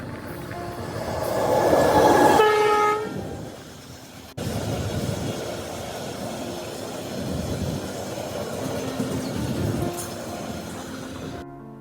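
A loud train rumbles past close by at a village railway station, wheels clacking and squealing, then the noise steadies into a lingering rolling roar.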